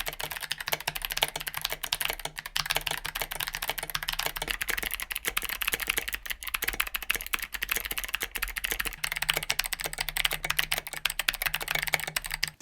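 Typing on a mechanical keyboard with clicky switches such as NK Sherbets, Kailh Box Jades and Kailh Box Pinks gives a fast, continuous run of crisp clacks, close and fairly quiet with no voices.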